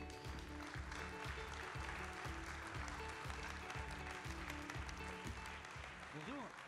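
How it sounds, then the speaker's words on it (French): Applause rises at a French ribbon ceremony as a guest is welcomed on stage, steady and fairly faint, over a low rhythmic hum and some background murmur. "Merci donc de l'applaudir bien fort"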